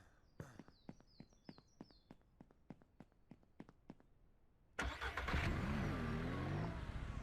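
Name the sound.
vehicle driving in Ranch Simulator video game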